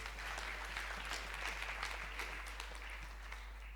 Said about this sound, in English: Can we give a clap offering to Minister Simshayele Lindiwe last time?